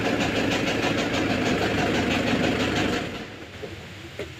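A faulty single-cylinder engine idles with a loud, rough, rhythmic putter, then drops off sharply about three seconds in, leaving only faint scattered knocks.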